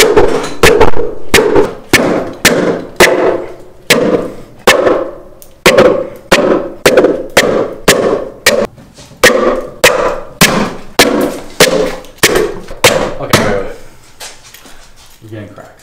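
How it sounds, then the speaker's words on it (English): Someone hammers on an old steel propane tank being made into a forge, landing about seventeen loud, ringing metallic blows in a steady rhythm that slows and fades toward the end. "literally start hammering"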